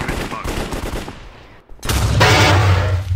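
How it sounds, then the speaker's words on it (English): Gunfire from an AK rifle in a cops-versus-criminals video game rattles out in a loud, dense automatic burst after a short lull, preceded by other game noise. "who doesn't like an AK?"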